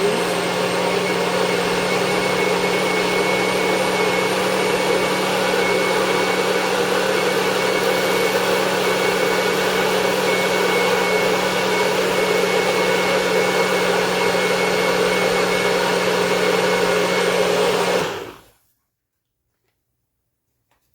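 A powerful blender blending hazelnuts and water whirs steadily at high speed with a constant motor drone and a grinding edge, running for about eighteen seconds before cutting off abruptly into silence.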